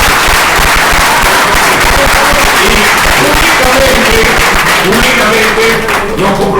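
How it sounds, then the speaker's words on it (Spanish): A crowd at a live event delivers loud, vigorous applause that is dense and sustained, with cheering voices mixed into the clapping. "le pido un fuerte aplauso"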